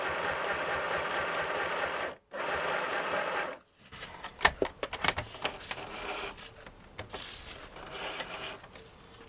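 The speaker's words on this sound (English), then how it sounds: "this little sewing machine doesn't like very thick material" A small sewing machine stitches thick material while re-covering a 1980s vintage directors-style fishing chair: two steady whirring runs separated by brief pauses, then irregular clicks and knocks as the fabric is handled, with no talking.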